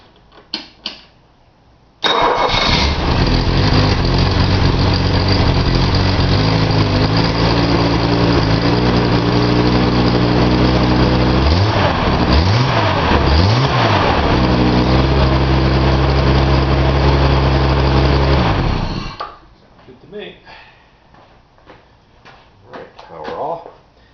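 A Datsun 280Z engine cranks and catches, then idles loudly and steadily for about seventeen seconds with a brief wavering in the middle before cutting off, leaving quieter handling noises.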